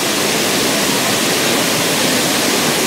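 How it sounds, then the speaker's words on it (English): About a ton of boiling water gushes into a large copper still packed with roses for rose oil distillation, a loud, dense, steady roar of pouring water throughout. "lots of water will now go in, around about a ton"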